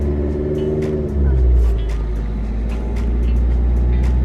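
A learner driver pulls a car away from rest in first gear, the engine's low rumble swelling as it moves off and then settling into a steady drone under intermittent voices.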